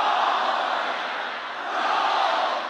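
A large crowd in Iran chants "death to America" in unison, a dense, steady roar of many voices heard from a distance, sustained without breaks.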